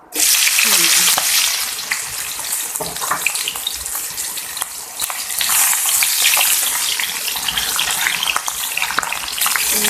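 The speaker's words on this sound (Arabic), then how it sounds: "هنجيب طاسة سخنة فيها معلقتين زيت، وبعد كده نحط فيها مكعبات الدهنة دي" Cubes of washed lamb fat fry in two spoons of hot oil in a pan, making a loud, continuous crackling sizzle with stirring scrapes throughout.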